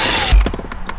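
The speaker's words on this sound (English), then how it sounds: "So I'm gonna use this little power tool" A small power tool drives screws during a car stereo install in a Honda Accord, whirring loudly, then cutting off into a quick burst of ratcheting clicks, close up and brief, with no talking.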